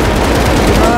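Rapid gunfire from the video game Strinova, dense automatic bursts filling the second at close, loud level, with voices chatting over the shooting.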